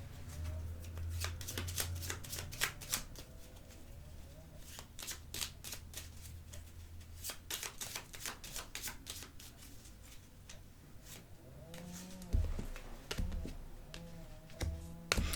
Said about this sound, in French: Je vais juste prendre une petite carte pour celle-ci.